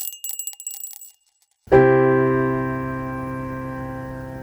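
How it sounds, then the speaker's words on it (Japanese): After some faint light tapping and a brief silence, a single full piano chord is struck loudly and left to ring, slowly fading. "今から和音を弾くんで、それの一番低いベース音っていうのを探ってみてください"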